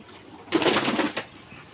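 A pigeon gives one close, soft throaty coo lasting about half a second, with quiet room stillness before and after.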